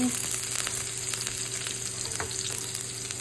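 Chopped onion frying in mustard oil, a continuous close hiss and crackle of sizzling with faint scrapes of stirring, steady and even with no voices.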